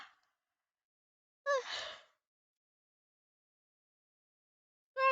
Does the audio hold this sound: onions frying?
no